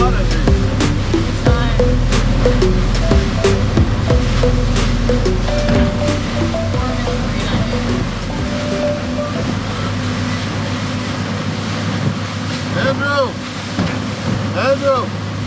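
A boat runs out over ocean waves off Florida on a spearfishing trip, with a steady loud engine drone mixed with wind buffeting and water slapping against the hull. Voices are partly audible under the noise.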